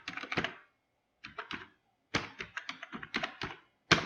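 Typing on a computer keyboard while writing Excel VBA code, in quick clustered bursts of crisp key clicks separated by short pauses, ending with a sharper single tap.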